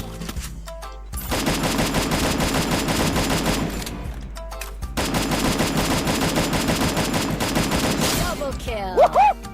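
Sustained rapid automatic weapon fire in the Free Fire video game, loud and continuous in two long bursts separated by a brief pause, with faint game sounds at the end.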